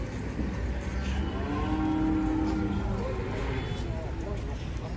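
A long, steady moo comes from a cow lying on the ground that will not get up, with people chatting nearby over the call.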